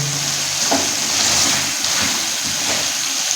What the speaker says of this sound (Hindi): घी को अच्छी तरह से बीच में भुनाई करेंगे